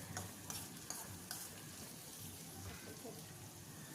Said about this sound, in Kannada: ಟೊಮೆಟೊ ಹಣ್ಣು ಸ್ವಲ್ಪ ಸಾಫ್ಟ್ ಆಗೋ ತನಕ ನೀಟಾಗಿ ಫ್ರೈ ಮಾಡ್ಕೊಳ್ಳಿ